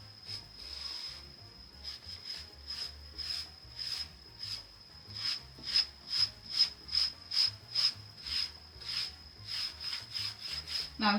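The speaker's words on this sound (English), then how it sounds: "The purpose is to remove the excess wax and any paintbrush" Cloth rubbing excess wax off chalk-painted wood furniture, a steady series of brisk back-and-forth strokes, close and fairly quiet, growing more rhythmic and pronounced midway.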